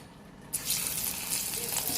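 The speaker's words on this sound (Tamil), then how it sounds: "இதை அப்படியே அந்த ஆயிலில் கொஞ்சம் கொஞ்சமாக போட்டு பொரித்து எடுத்துக்கிடுவோம்." Battered cauliflower pieces dropped into hot oil set off a sudden loud, bright sizzle that keeps hissing steadily close by after a quiet start.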